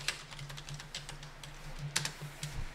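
Steady typing on a computer keyboard while entering text in Photoshop, with rapid light keystrokes and a few firmer taps, heard close and alone with no voices.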